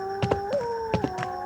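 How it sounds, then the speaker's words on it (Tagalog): Dogs howl together at dusk in a drawn-out chorus, wavering tones overlapping with short yips and whimpers, close by and fairly loud. "Ala, ba't ganun tunog ng mga aso?"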